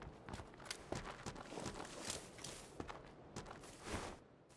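Footsteps in a competitive multiplayer video game such as PUBG, played back through Sennheiser PC37X headphones: a steady run of crisp, close steps with some rustling, fairly loud throughout and with no voices.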